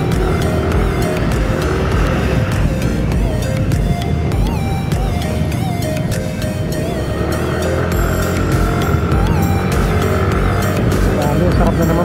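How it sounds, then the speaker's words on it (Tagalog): A motorcycle engine revs freely after a clutch job with a new clutch spring, loud and continuous throughout, with a sustained busy engine roar and shifting pitch while voices talk over it. "Grabe, sarap na naman birahin itong motor na to."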